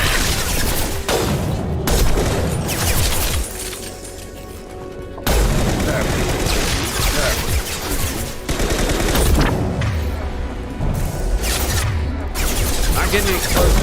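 A grenade blast in Mass Effect 2 lands amid a loud combat din of gunfire and booms, with voices calling out over the chaos.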